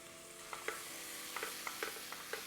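Tomato paste frying in a pot for Tuscan chicken lasagna soup, a faint low sizzle with soft, evenly spaced taps and scrapes of a stirring spoon.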